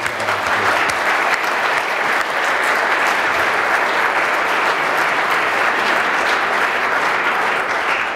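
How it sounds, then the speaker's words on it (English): Sustained applause from an audience following an ambassador's farewell address in Berlin, a dense, even clapping that stays loud and steady throughout without breaks. "So a big round of applause."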